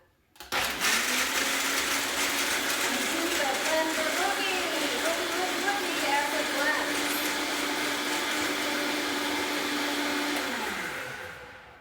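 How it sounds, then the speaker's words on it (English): A blender whirring as it purees cashews into cream, starting abruptly and running loud and steady for about ten seconds with a slightly wavering pitch before winding down to silence. "We'll put the cap on the blender. It's going to be noisy for a moment."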